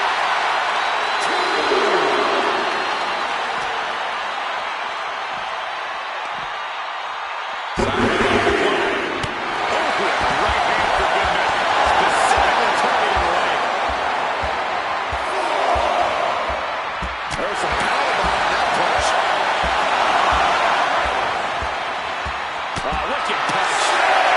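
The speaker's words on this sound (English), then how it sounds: "Listen to this crowd." A large WrestleMania arena crowd roars and cheers continuously, a loud wash of voices with sharp slams and bangs cutting through and swelling bursts of excitement, while a commentator talks over it.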